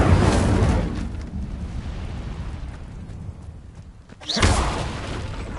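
A fire spell is cast in Hogwarts Legacy with a loud burst that rumbles and then fades over a few seconds, followed near the end by a second sudden, strong whoosh-like blast.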